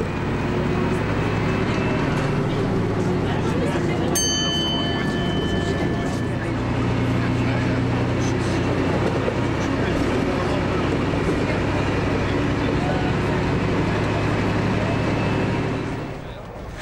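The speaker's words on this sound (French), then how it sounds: "c'est 3 heures au rythme d'un Picasso, avec ses changements de vitesse et surtout le ronflement du moteur." Engine rumble of a Picasso autorail railcar on the line to Le Tréport, a loud continuous diesel drone with a steady low hum, near and unbroken, briefly marked by a higher tonal whine.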